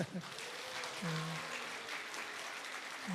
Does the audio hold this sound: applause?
yes